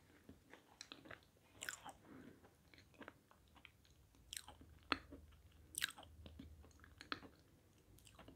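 Someone chewing chocolate cake close up, faint soft munching with scattered small crunchy clicks and moist smacks in a quiet room.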